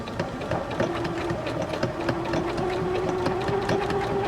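Janome sewing machine with a binder attachment stitching binding onto a quilt, a steady rapid mechanical chatter of the needle over a motor hum that rises slightly in pitch, continuous and close.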